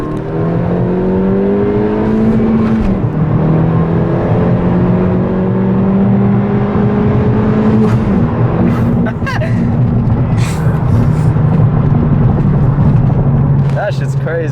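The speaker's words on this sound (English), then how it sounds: "The turbo does sound hella different. Like, it does spool longer." A turbocharged 10th-gen Honda Civic Si with an aftermarket intercooler pulls hard in first gear, its engine note climbing steadily with a whirring turbo spool, loud and continuous from inside the car with voices talking over it.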